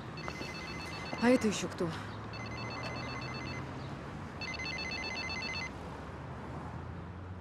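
A telephone on a TV drama set rings in two repeated electronic bursts, moderately loud in a quiet room, with a brief spoken line just before the first ring.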